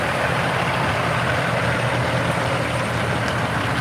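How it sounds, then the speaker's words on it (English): Several empty dump trucks idle at the SpaceX Starbase construction site in Boca Chica, Texas, a steady low diesel rumble holding close and loud throughout with no break. "empty trucks coming in to get more of the soil off the site here."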